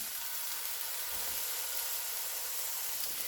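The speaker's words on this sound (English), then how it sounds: "We're going to add in our pork here into our skillet." Ground pork sizzles steadily in a skillet, a continuous bright hiss with no speech, holding an even loudness throughout.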